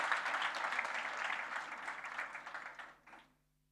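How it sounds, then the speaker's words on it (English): An audience at the opening ceremony of the 2023 Maisha Conference claps for Siaya County. The steady, fairly close applause holds for about three seconds, then trails off quickly into quiet. "Could we give a clap to Siaya County?"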